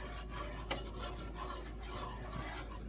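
A whisk stirring apple pie filling in a pot, gentle repeated scraping and rubbing strokes against the metal, close and fairly quiet, with no speech.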